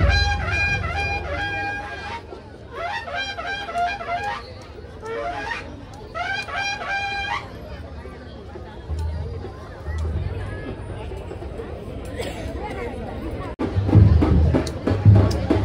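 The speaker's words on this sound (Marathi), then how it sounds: "या शोभायात्रेत मालवणवासियांनी भरपूर गर्दी केलेली होती." Crowd of Malvan residents gathered for a New Year procession, a steady outdoor hubbub of many voices with bursts of harmonic music or chanting rising above the babble and some louder noise near the end.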